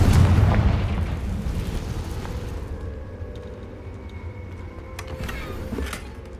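A loud fiery spell blast from the Confringo attack in the game Hogwarts Legacy, one heavy boom opening the clip and rumbling away over several seconds, with fainter pops and crackles following.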